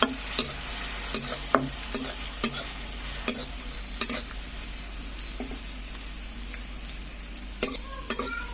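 Raisins and cashews fry in desi cow ghee with a steady soft sizzle, broken by repeated sharp clinks of a spoon stirring against the pan, close and fairly loud over a low hum.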